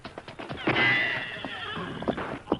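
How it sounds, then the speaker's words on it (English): A horse whinnies loudly and close in an old-time Western radio drama, one long shrill neigh mixed with clip-clopping hooves before and after, with no voices. "Get to the horses quick, Tonto"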